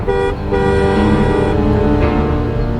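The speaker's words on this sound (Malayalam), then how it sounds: "ഒരുത്ത പിന്നാലെ കിടന്ന് ഹോൺ അടിക്കുന്നുണ്ടല്ലോ" A car horn blares in one long, loud, sustained honk, close by, with a brief dip near the start before holding steady.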